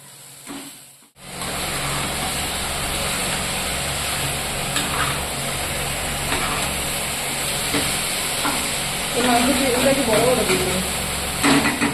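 Dheki shak fern greens frying in a pan, a steady close sizzle and hiss running throughout, with stirring noises, a sharper flare of crackling near the end, and talk over it.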